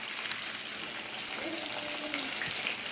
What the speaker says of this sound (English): We got salmon going here in the frying pan.